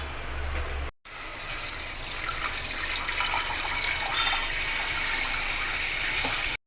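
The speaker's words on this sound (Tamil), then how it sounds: "இது வந்து நல்லா 2 வாட்டி நல்லா வாஷ் பண்ணி எடுத்துக்கலாம்." Moong dal being washed under a running kitchen tap: a steady, close gush of water splashing into a vessel, briefly interrupted near the start, then flowing continuously without talk.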